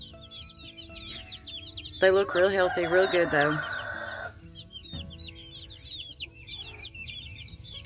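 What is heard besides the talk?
chickens clucking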